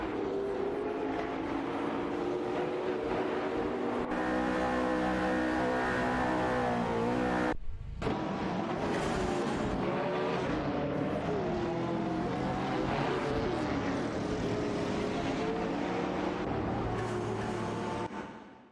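AI-driven race cars lapping a track in a racing video game, their engines a continuous loud, rising and falling whine of overlapping cars, broken by a brief near-silent cut midway before the roar resumes.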